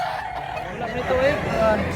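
Chickens at a Filipino rooster seller's pen, with a rooster letting out short clucking calls over a steady background din, close by and moderately loud.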